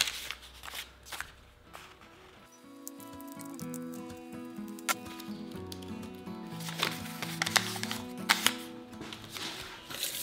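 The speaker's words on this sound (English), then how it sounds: "And then I'll cut that out with a pair of scissors." Scissors cut out an oval paper template for a wooden cutting board, with a run of crisp snipping and paper rustling over soft background music.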